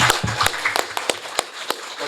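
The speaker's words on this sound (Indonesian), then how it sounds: "Tepuk tangan dulu ya." Audience at a course-centre opening claps in a loose, uneven burst, with a few louder separate claps standing out and the sound thinning toward the end.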